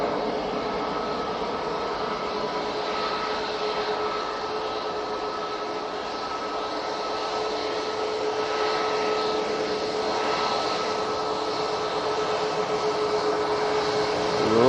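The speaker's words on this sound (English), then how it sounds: "Easyjet to Gibraltar using an A320-200 now on the roll." An easyJet Airbus A320-200 bound for Gibraltar rolls for takeoff at Manchester Airport, a steady distant jet engine roar with a sustained whine that swells gradually over the whole stretch, no voices.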